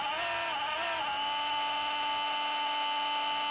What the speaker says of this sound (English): you can hear that the fan is struggling